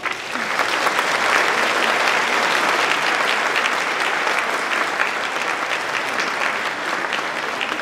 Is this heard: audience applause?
yes